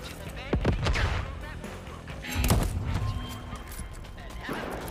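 Gunfire from the player's weapon in Deathloop: several sharp, booming shots in an irregular burst, loud and close, mixed with game effects and someone talking.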